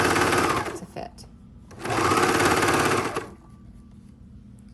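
Sewing machine stitching stretched binding onto a cami tank in two bursts of rapid, close mechanical whirring, the second longer, separated by a short pause.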